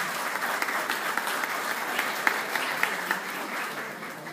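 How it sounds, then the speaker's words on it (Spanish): Steady applause from a sizable crowd at a government social policy committee meeting in Colombia, dense clapping with a few sharper claps standing out, continuous throughout with no voices. "Yo pido un aplauso para todos ellos."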